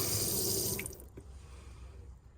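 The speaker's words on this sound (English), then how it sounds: "you'll be able to turn your cold water tap on" Cold water gushes from the sink tap in a Vauxhall Vivaro campervan, a steady close rush for the first second that drops to a quieter, thinner trickle.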